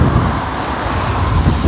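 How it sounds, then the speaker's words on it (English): Strong wind buffets an outdoor microphone on a campus, a steady low rumble of gusts filling the whole short stretch without any speech. "Sorry, it's a bit windy here."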